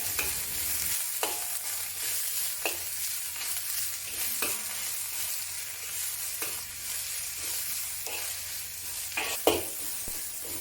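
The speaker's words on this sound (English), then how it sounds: "add more oil, and then the green vegetables. Stir fry the vegetables until tender." Green vegetables stir-fry in hot oil in a wok, a steady broad sizzle broken by repeated sharp scrapes and clicks of the spatula against the metal at irregular intervals, close and moderately loud with no voices.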